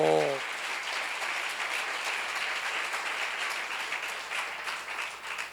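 Broad congregation applause at a church seminar fills the space, a steady even roar of many hands clapping that continues throughout, following a brief vocal tone at the very start.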